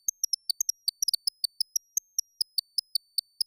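A modular synth envelope patch sends out rapid, very high, chirping blips like birdsong in an irregular run of short pips, bright and dry, with no low sound underneath.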